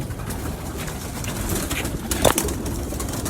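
Pure-breed pigeons cooing in a loft, soft low murmuring coos layered over a steady noisy background, with a brief louder flutter-like burst near the end.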